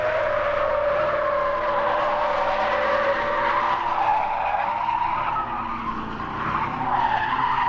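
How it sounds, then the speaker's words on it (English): A 1971 Holden Kingswood brakes hard into a corner at about 50 miles an hour on a closed test road, its tyres squealing and skidding loudly and continuously with engine noise underneath. "Listen to the Kingswood brake to take it at an incredible 50 miles an hour."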